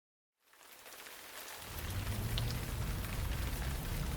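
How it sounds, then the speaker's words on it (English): Rain showers hiss steadily outdoors, the sound building from a soft patter into a fuller, denser wash with a low rumble underneath, with no voices. "But we do have some light showers."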